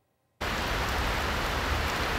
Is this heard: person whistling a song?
no